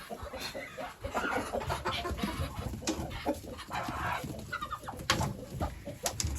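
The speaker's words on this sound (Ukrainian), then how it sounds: "Дивіться, який півень." A rooster clucks close by with soft bird murmurs around it, short calls breaking out irregularly.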